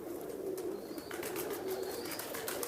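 Teddy pigeons cooing in soft, repeated low calls, close by, over a light background hiss.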